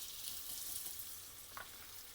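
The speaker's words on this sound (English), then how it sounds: "Just listen to that sizzle." Okonomiyaki batter mixed with cabbage sizzles in a hot pan, a steady, quiet hiss of frying with faint crackles and one brief spatter, no voices.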